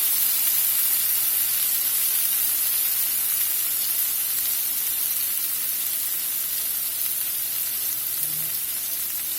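Salmon searing in a hot pan, a steady, loud, close sizzle with a bright continuous hiss that holds unchanged throughout.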